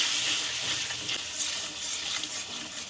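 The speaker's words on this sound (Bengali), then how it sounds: "হালকা মতন জল দিয়ে দিচ্ছি।" Water is poured into a pan of frying turmeric, cumin, coriander and chili powder with tomato, producing a loud, continuous hissing sizzle close up that lasts about three seconds.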